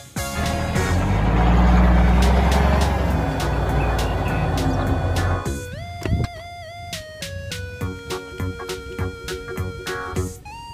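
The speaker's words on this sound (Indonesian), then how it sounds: "Mobil, truk, derek." A tow truck's heavy engine rumbles loud and close for several seconds, then gives way to a string of clear beeping and horn-like tones.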